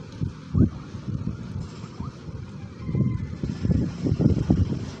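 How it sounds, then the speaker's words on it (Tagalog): Low, gusty wind buffeting the microphone in uneven surges, rumbling loudly with no voices. "Malakas ang hangin."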